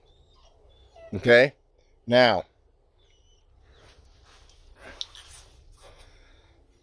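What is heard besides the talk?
dog whining outside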